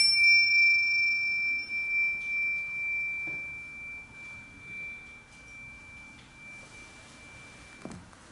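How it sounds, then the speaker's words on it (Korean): A meditation bell rings once, its clear, pure tone held steady and slowly fading over several seconds in a quiet room, with no voices. "제가 치는 종소리 들으시면서 잠시 명상하시겠습니다"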